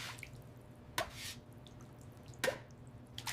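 Excess brine drips off freshly salted cheese wheels on racks in a modern dairy, with a few sharp, distinct drops over a low steady hum.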